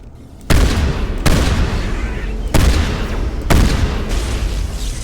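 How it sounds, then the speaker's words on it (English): Explosions in the video game Mass Effect, four loud, close booms a second or so apart, each dropping into a long rumbling roar that carries into the next, with no talking. "that looked like the explosion radius killed the dogs"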